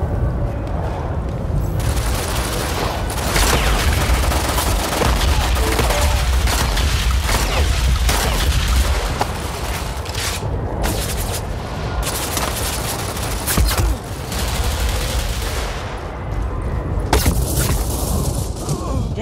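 Shotgun and other gunfire in a first-person shooter video game, dense continuous volleys of shots and blasts running throughout, loud and close, with no clear breaks.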